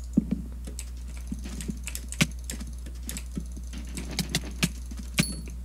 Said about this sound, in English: Jitter clicking god.